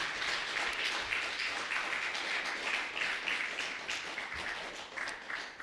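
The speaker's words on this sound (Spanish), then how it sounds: "Den un fuerte aplauso, Rey de Reyes y Señor de Señores." A church congregation gives sustained applause during a worship service, a dense, steady wash of clapping that holds at a fairly even level throughout, with a few voices faintly mixed in.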